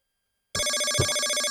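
A telephone starts ringing abruptly after half a second of silence, its loud electronic ringtone repeating in a rapid, even warble until the end.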